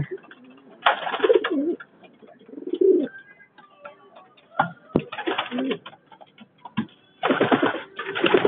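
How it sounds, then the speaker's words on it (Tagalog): Pigeons in a loft coo in repeated soft throaty bursts, several birds close by, with pauses of quieter rustling and faint background noise between the calls. "Yan mga ibon namin."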